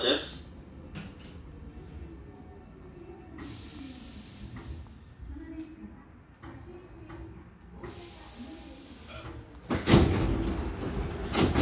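Hankyu Kyoto Line train doors at Minami-Ibaraki station, a hissing rush of air with sliding door movement and a louder thud near the end, over station background noise.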